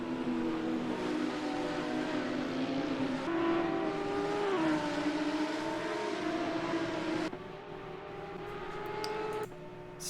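Two BMW GT race cars battle at Road Atlanta in a sim racing series, engines droning loudly together with rising and falling pitch through gear shifts, briefly easing before the whine picks up again, with no voices.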